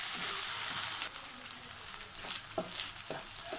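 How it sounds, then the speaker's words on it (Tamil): Ginger garlic paste sautés in a pan for paneer butter masala, with a steady, close sizzle and a few scraping stirs toward the end. "இஞ்சி பூண்டு விழுது நல்லா வதங்கிடுச்சு"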